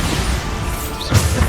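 A Bombarda blasting spell explodes in the wizarding video game Hogwarts Legacy, a steady rushing swell ending in a loud, close crash with low booming thumps.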